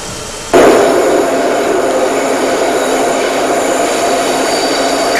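A Class 37 diesel locomotive hauls a train away from Oakdale Colliery in Wales in 1989. After a quiet half second its loud, close rumble and wheel noise cut in abruptly and hold steady to the end.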